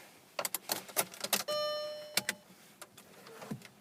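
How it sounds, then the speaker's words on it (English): A car key jangles and clicks in the ignition, followed by a short electronic chime tone and a brief starting attempt, all close and fairly quiet with no talking. "Looking at the dash here whilst I start the car."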